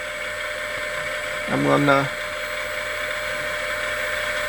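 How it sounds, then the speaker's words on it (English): An ebike's brushless DC hub motor spins backward with a steady, even electric whine and hum, while a person briefly speaks over it midway. "But you can hear the motor running, and it's running backward."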